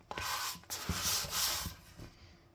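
Sandpaper scuffs the old finish off a wooden piece in short, quiet rubbing strokes close by, with soft uneven pauses between passes and no talking.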